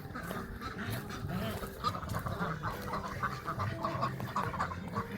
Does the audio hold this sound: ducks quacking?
yes